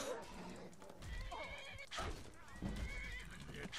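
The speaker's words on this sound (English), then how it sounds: "Oh, I hit my horse." A horse in the video game Skyrim neighs and whinnies amid clip-clopping hooves and combat noise, while a person talks over the game sounds.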